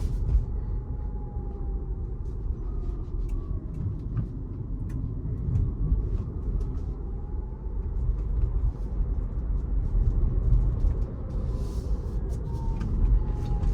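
A Tesla Model Y climbs mountain switchbacks, its cabin filled with a steady low road rumble and tire roar that swells gently at times, with no talk over it.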